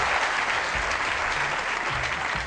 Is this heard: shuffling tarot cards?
no